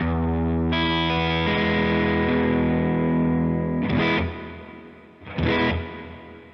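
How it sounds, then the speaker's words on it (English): An electric guitar plays through a Line 6 POD Go Matchless DC30 amp preset with plate reverb. A long sustained driven chord rings out and decays, followed by two short strummed hits that trail off into reverb. "let's hear how this sounds with the controls pretty much set at noon and the plate reverb active"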